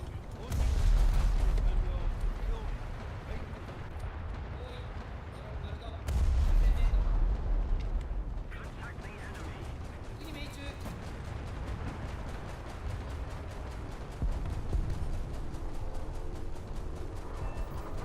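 Spitfire cannon bursts in the War Thunder air-combat game, loud booming volleys near the start and around six seconds, then a continuous rumble of engine and gunfire noise; a voice talks over parts of it.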